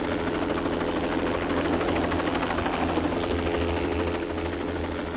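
Helicopter approaching a landing zone in a front yard, a loud continuous rotor drone with steady engine whine and throbbing low pulses, holding level throughout with no voices.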